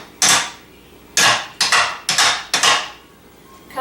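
Five sharp, close knocks from a toy hammer in a retro toy set, struck in an uneven rhythm with short ringing tails.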